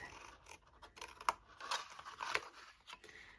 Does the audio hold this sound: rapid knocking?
no